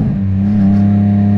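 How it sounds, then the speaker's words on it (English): A Can-Am three-wheel motorcycle accelerates on throttle with a steady, close engine drone and strong low harmonics that hold even and loud throughout. "when I hit it, when bike starts to accelerate"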